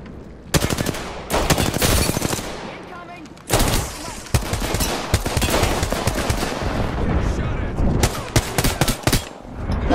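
Automatic weapons fire in Apex Legends, with dense, rapid bursts of loud shots broken by a short pause and then resuming, while a player talks over the top.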